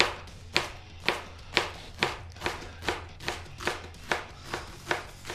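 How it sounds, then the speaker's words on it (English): Knife chopping a stacked, rolled bundle of leafy herbs into ribbons on a cutting board, about a dozen crisp, evenly spaced chops in a steady rhythm, close and distinct with no talking. "Stack them, roll them up, and then start cutting them like that."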